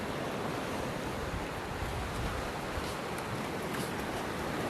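Rushing river current surges into the sea at Agno, Pangasinan, carrying away sand. It forms a dense, unbroken roar of churning water and wind, loud and steady from start to finish.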